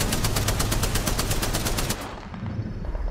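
Rapid automatic gunfire from the battle-royale shooter Apex Legends, a steady burst of loud, evenly spaced shots for about two seconds, then a quieter rumble as the firing stops.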